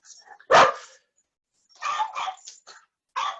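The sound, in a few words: dogs barking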